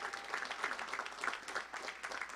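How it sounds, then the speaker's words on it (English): Faint applause from a commencement audience honoring community college graduates, a quiet, distant wash of clapping with small pulses rising and falling throughout. "let's give a round of applause to all of our successful graduates here today"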